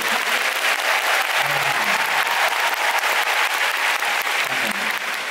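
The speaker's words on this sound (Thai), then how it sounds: "อยากขอเสียงปรบมือดังๆให้พี่ๆแบ็กสเตจ" A large concert crowd at a show in Thailand gives loud, sustained applause for the backstage staff, a thick, unbroken wash of clapping that holds steady from start to finish.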